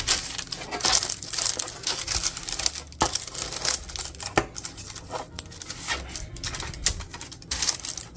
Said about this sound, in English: I'm going to put just a little bit of butter on the inside just to kind of tack down the parchment paper, because I will be lining this with parchment paper